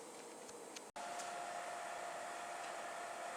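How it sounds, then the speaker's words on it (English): The fan of a Big Buddy portable propane heater runs on high, giving a steady faint whooshing hum with one brief click and dropout near the start. "You can hear the fan going on."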